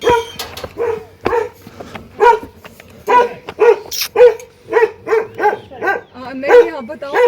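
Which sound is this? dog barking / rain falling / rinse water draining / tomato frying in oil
dog barking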